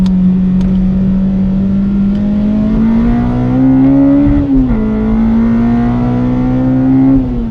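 A Honda Civic Type R EP3 engine on a track, loud and close from inside, holding a steady strained drone that climbs gradually, dips briefly at a shift, then rises again.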